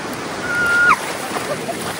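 Sea waves on Mandarmani beach make a steady, broad wash of surf close at hand, swelling slightly midway with no distinct breaks.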